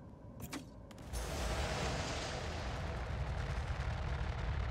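Torpedoes fire in the space combat game Star Citizen: sharp launch transients give way to a sustained loud, broadband rushing roar that holds steady for several seconds, with no talk.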